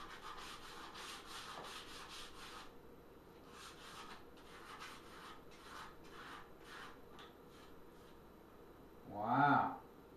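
Paint being scuffed off a wooden table pedestal to fake worn feet marks: a faint, soft rubbing and rasping in uneven strokes, with quieter gaps later and a louder brushing swell near the end.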